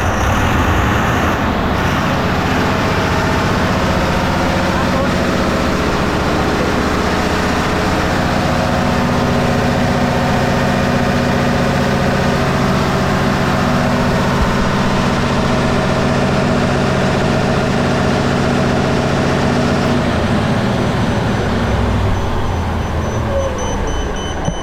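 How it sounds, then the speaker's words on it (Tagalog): Emergency generator diesel engine running loud and steady with a constant low drone and harmonic hum, then cutting out near the end as the engine shuts down on an overspeed test. "Overspeed ng emergency generator natin."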